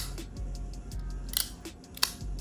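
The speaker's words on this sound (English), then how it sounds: "No other blade sounds quite like that when you deploy it." A series of sharp metallic clicks and snaps, quiet between them, as a Chaves Redencion 229 folding knife blade flicks open on its kickstop and locks, repeated several times.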